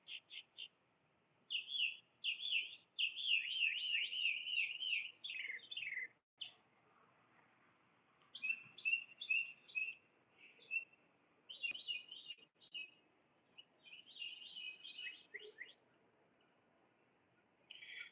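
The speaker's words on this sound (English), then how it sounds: "just birds tweeting back and forth" Birds chirp and tweet back and forth in a garden, quick bright trills and high repeated notes coming in bursts with short quiet gaps, fairly close against a still, quiet background.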